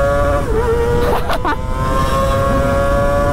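An Indonesian-owned Kawasaki ZX-25R four-cylinder motorcycle engine revs up close and loud, its high-pitched wail rising and falling through a couple of quick blips before settling back to a steady drone.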